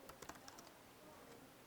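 Typing on a computer keyboard, a quick burst of faint key clicks in the first second followed by a single tap and quiet room tone, with no speech.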